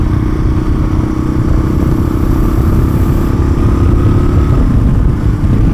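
A motorcycle engine runs loud and close with a steady low drone, its pitch shifting slightly as it slows under engine braking while the rider downshifts, with wind rush throughout.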